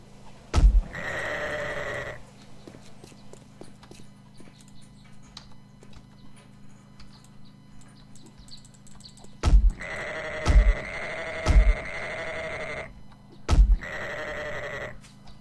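Sheep bleating in the survival video game 7 Days to Die: one bleat, then a burst of three or four close bleats and a final one, loud and near over a low steady ambient hum.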